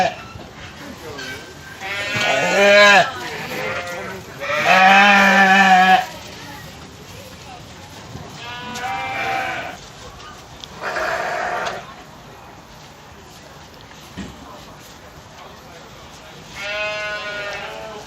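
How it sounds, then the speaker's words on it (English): Sheep bleat loudly at the Royal Norfolk Show, a livestock agricultural event: several long, wavering calls come in separate bursts, with quieter crowd murmur and a voice in between. "Got some long head sheep now."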